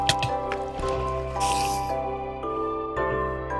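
A player moves through water in Minecraft, giving soft squishing splashes over a steady musical background with no talk.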